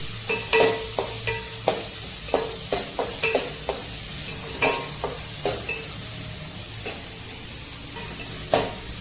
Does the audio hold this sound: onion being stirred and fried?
yes